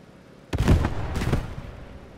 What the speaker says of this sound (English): Oh, that's an ammo fire.